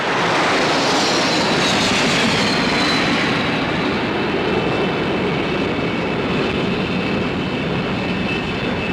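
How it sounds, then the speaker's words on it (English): A formation of RAF aerobatic display aircraft roars steadily overhead while looping, a dense continuous engine rush with a faintly shifting whine, loud and unbroken throughout. "the Earth swings over our heads as the aircraft trace a circle in the sky"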